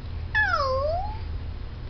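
A single drawn-out meow imitated by a voice, rising then sliding down, fairly close and clear.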